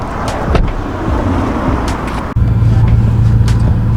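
Steady interior hum of a 2005 BMW E90 320i on a test drive, low engine and road drone throughout with a brief dropout midway before the rumble returns slightly fuller.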